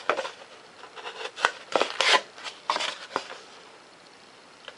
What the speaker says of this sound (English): Come in here with an X-Acto knife. Take and trim this piece out.